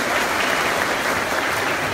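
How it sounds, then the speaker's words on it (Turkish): Steady, dense audience applause at a party district congress, filling the whole moment at close range without a break. "Bir de hep birlikte teşkilatımıza alkışlıyorum."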